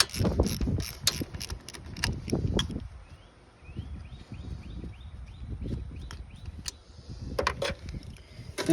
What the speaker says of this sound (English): So now you're just gonna loosen these bolts off.